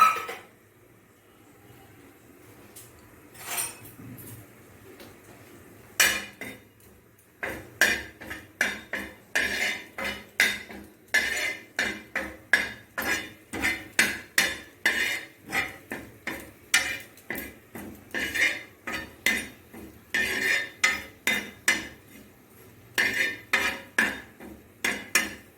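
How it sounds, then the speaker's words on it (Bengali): Kasuri methi dry roasting on a hot tawa, heard as a quiet start followed by many sharp, close metallic clinks and scrapes of a utensil against the pan in a quick, irregular rhythm. "এবার একটা তাওয়া গরম করে এখানে কসুরি মেথিটা একটু হালকা ভেজে নেব"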